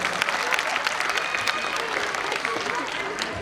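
Loud, dense applause from a school annual function audience, many hands clapping together for a guest at close range, steady throughout with faint crowd murmur beneath.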